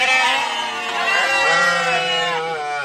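Garut sheep bleat loudly and close, one long wavering bleat running into another, heard clearly with no talk over them.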